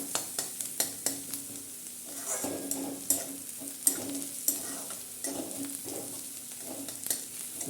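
A spice tempering fries in a pan just before fenugreek leaves go in, making a soft sizzle broken by regular scraping strokes and taps of a spoon against the pan, close and fairly quiet.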